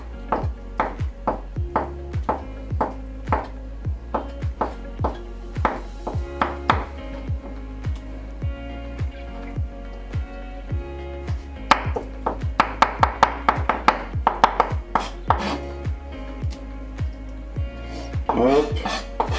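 A knife chops ingredients finely on a board for a homemade savory cake, with steady rhythmic taps that speed up into quick bursts of rapid strokes, close and crisp.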